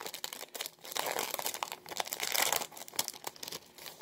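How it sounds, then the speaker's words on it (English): A 2020 Topps Chrome WWE trading card pack being torn open by hand, with close, continuous crinkling and ripping of the foil wrapper in irregular bursts, no voices. "I'm going to open up the 2020 Topps Chrome WWE cards."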